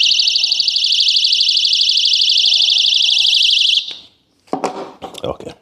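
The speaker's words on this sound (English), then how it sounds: "I'm going to pull the alarm," A loud, piercing electronic alarm from a HOTUT rechargeable personal alarm warbles steadily for several seconds, then cuts off, followed by handling clatter and knocks.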